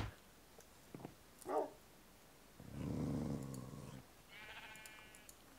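A baby dog in the game Minecraft gives a couple of short yelps, then a longer, louder whimpering cry and a thin, high whine. The sounds are close and clear with no speech.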